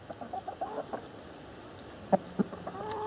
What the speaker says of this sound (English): Unfortunately, the Sussexes are the lower class chickens out here, it seems, so they have to wait.